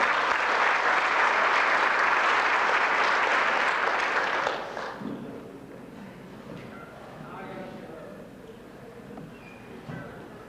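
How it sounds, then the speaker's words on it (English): Loud, dense clapping from a crowd fills a banquet room for several seconds, then fades as voices and chatter take over. "Once again, big round of applause, everybody."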